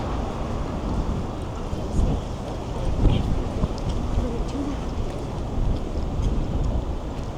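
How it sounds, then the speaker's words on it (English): Steady, heavy wind rumbles and buffets the microphone throughout, a dense roar on a Toronto city street with faint chirps now and then. "So it's starting to get windy again,"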